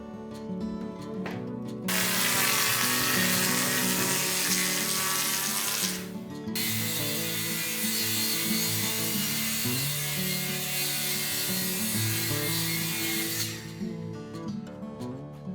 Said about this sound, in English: I will use a groove cutter and rabbet the top and bottom in the same manner.